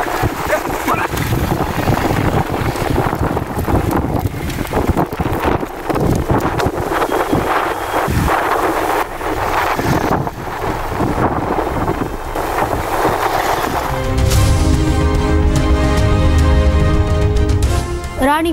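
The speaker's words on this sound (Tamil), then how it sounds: "தஞ்சையில் உள்ள ITI விளையாட்டு மைதானத்தில் திடீரென சுழற்சி அடித்த சூறாவளி காற்று" A whirlwind gusts over a sports ground in Thanjavur, sucking up sand: loud, continuous roaring wind buffeting the microphone, with rumbling gusts throughout and no one talking.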